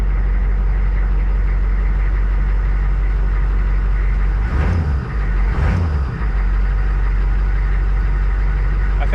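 A Harley motorcycle engine idles loudly and steadily close by, with a deep low rumble and two brief throttle blips around the middle, and no talk.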